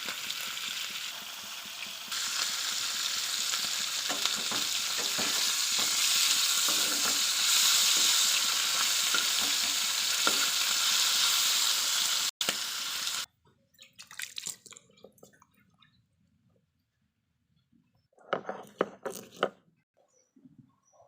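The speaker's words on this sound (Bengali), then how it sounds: "হলুদ গুঁড়ো লবণ ভালো করে মাখিয়ে নেব মাছটা ভেজে নেব" Hilsa fish coated in turmeric and salt fries loudly in hot oil, a dense continuous sizzle for about twelve seconds, then cuts to quieter scattered clatters and a brief burst of sizzling near the end.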